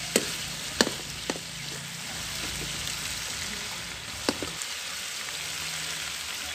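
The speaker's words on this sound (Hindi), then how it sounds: "पहले इसको खूब भूनेंगे।" Chicken sizzling in hot oil in a kadai for chicken kadai, a steady bright crackle throughout with a few sharp pops and spatters early on and near the end, close and continuous with no voices.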